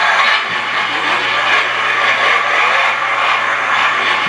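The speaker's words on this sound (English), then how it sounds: "Mami Rhea, start the engine on" Remote control Monster Jam Son Uva Digger toy truck with its engine sound running, a loud, steady, broadband roar that holds without a break.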